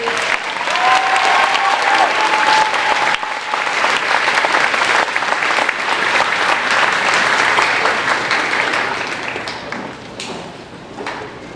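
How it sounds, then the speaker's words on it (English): Loud, dense applause fills a school moving-up ceremony for fourth graders, a sustained roar of many clapping hands that holds steady for several seconds before tapering off toward the end, with faint crowd murmur beneath. "Could we have a round of applause for Mr. Warren and Mr."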